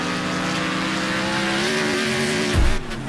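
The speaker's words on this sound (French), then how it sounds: "J'entends dans le casque là les voitures juste derrière." Race cars in the Next Car Game video game roar close behind with a sustained, loud engine drone whose pitch rises steadily, ending in a brief low thump and a drop in level.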